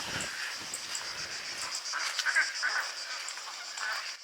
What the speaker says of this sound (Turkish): Ördekler var